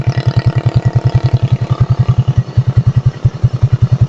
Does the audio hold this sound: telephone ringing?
no